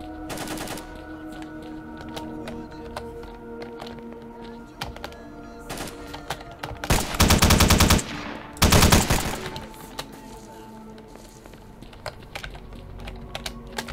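Light machine gun fire in the video game STALKER: Lost Alpha: two long, loud bursts in the middle, surrounded by scattered clicks and taps.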